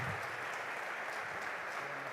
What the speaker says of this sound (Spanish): Recibámosles con fuerte aplauso.